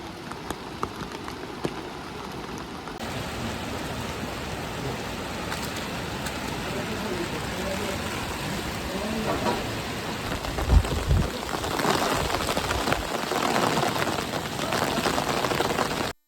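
Steady rain falls during a Himalayan trek in the Kumaon region, a dense even hiss of drops on surfaces with a brief low rumble partway through.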